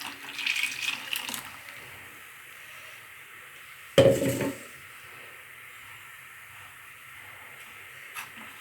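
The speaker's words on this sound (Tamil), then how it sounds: "நல்லா மிக்சியை கழுவி அந்த தண்ணியும் உள்ளே ஊற்றிடுங்க" Tap water splashing as a mixer grinder jar is rinsed in a kitchen, a short run of water early, then a sharp louder splash midway that quickly fades, with quiet background after.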